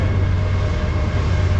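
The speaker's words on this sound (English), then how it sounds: "And guess there's a train over there." A steady, loud rumbling roar of a passing train beside the Schuylkill River, continuous and broadband with a low droning hum underneath.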